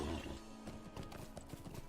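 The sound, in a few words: horse hooves in video game Lord of the Rings Online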